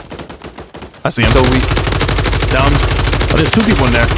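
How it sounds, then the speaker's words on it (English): Rapid automatic gunfire bursts erupt loudly in a Warzone 3 match, with a JAK Glassless Optic–equipped weapon; a brief quiet lead-in with a spoken voice gives way to sustained close-range shooting. "We're still getting sniped at from somewhere."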